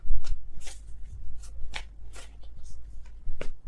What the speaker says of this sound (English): I feel like these are all sloppy shuffles.